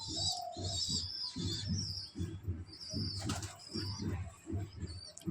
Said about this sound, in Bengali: তো দুটো পায়রায় ভিতরে গেছে,